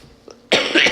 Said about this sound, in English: I know I still have a cough.